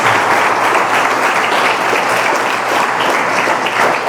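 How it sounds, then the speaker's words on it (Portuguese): A church congregation breaks into loud, sustained applause during a worship sermon, a thick continuous roar of many hands clapping at full strength throughout. "Aplaude e glorifique a Deus aí bem forte."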